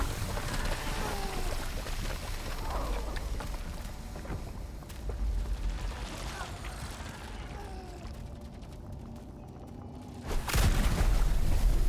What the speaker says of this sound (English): We can just keep using ooze bombs.